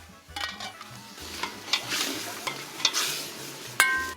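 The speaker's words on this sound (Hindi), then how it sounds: "गोश्त को कुछ खुशबूदार मसालों में तेज आंच पे भूना" Mutton for Kashmiri wazwan is stir-fried in aromatic spices over high heat, giving a steady sizzle with stirring scrapes and occasional metallic clinks from the utensil against the pot, moderately close and with no talking.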